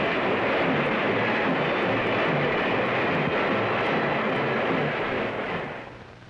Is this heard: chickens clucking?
no